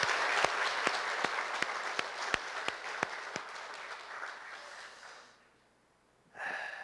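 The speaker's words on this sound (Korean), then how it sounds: "우리 뜨겁게 박수를 한번 축하해주세요" A church congregation claps for a newlywed couple, with steady scattered claps at a quiet distance that fade into near silence before a voice begins.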